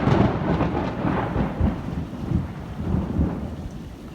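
Thunderstorm with steady heavy rain, low rolling thunder rumbling continuously beneath the downpour, loud and close with no voices.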